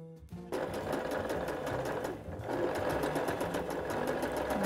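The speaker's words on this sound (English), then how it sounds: "And now I'm ready to machine my bias binding on." A sewing machine stitches bias binding onto a pillowcase dress, running in a steady, rapid, close-up whir after a brief start, with a short slowdown midway before carrying on.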